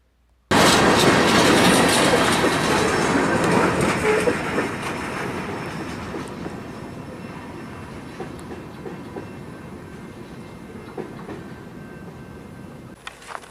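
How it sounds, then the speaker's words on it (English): A CN-led freight train rumbles past on the tracks with loud, steady clattering of wheels that gradually fades but continues throughout, with faint squeals and clicks. "So not the fastest train, but there it goes."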